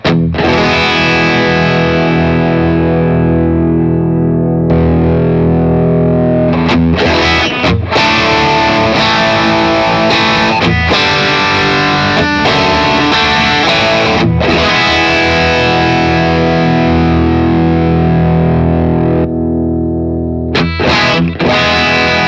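Electric guitar played through a stock Boss OD-1 overdrive pedal, loud distorted chords and sustained notes with a few short pauses, steady and up close with no voices.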